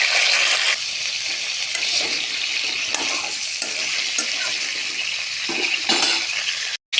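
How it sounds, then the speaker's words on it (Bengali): Potato and pointed gourd fry in hot oil in a kadai, a loud, steady sizzle broken by scraping stirs and light clinks of a spatula, with a brief drop to silence near the end. "তেল গরম হয়ে গেছে, এখন আলু পটল হালকা করে ভাজিয়ে নেব।"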